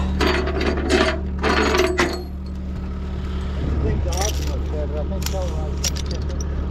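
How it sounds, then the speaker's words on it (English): Ratchet tow straps come off a brand new Kia car in a series of clicking, rattling bursts, with a person talking over the mechanical noise. "So I get my front straps off."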